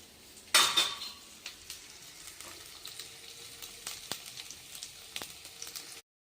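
Soft sizzling in a pan with scattered scraping and clinking from a utensil stirring, starting with a louder clatter.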